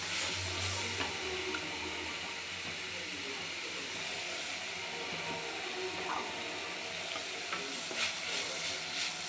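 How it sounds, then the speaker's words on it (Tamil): Grated coconut with cumin powder being stirred in a hot frying pan, a steady sizzle and hiss running throughout with occasional scraping stir strokes, close and moderately quiet. "தேங்காய் போட்டு கிளறி ரொம்ப நேரம் வச்சிடக்கூடாது உடனே ஆஃப் பண்ணிடலாம்"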